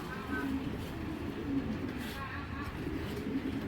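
Pigeons at a loft give soft, repeated low coos at close range over a murmur of background noise, with faint voices in the distance.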